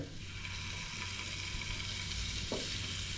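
Coated pieces fry in oil with a quiet, continuous crackle that stays steady throughout. A single short clink is heard near the end, and there is no speech.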